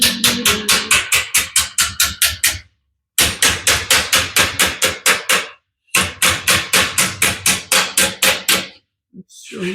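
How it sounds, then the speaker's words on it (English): Loud, rapid hammer blows shaping sheet metal on a 1941 Ford 2-ton truck, striking in three fast bursts of about a dozen even hits each, separated by short pauses. "now we just hammer it along"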